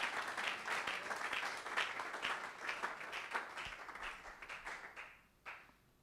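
A church congregation applauds in a sustained, dense wash of clapping that holds steady, then thins and fades near the end.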